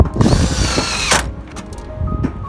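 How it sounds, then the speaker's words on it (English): A power drill drives a throat adjuster screw into a metal roof vent in one loud, close burst that whirs up, cuts off, then gives a brief second buzz, with no talking. "Now I just need to put another throat adjuster screw in."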